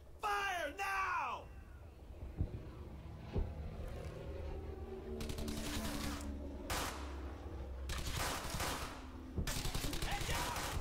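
Bursts of rifle and machine-gun fire rattle in the World War II shooter Brothers in Arms: Hell's Highway, several sustained volleys with single shots between them, while soldiers shout over the battle.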